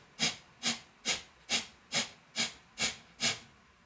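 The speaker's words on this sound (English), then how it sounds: "it's going to be a powerful breath that's going to sound something like this." Breath of fire breathing exercise: eight rapid, forceful nasal exhalations in a steady rhythm about half a second apart, each a sharp close hiss with no talking.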